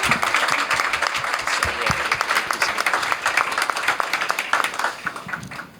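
An audience at an executive summit pitch night applauds speaker Amy Brown, steady dense clapping throughout, loud and close, tapering slightly at the end.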